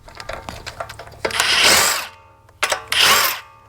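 A cheap impact wrench spinning car wheel lug nuts off during a front brake rotor job, with clicks and rattles followed by two loud, close whirring bursts, the second shorter.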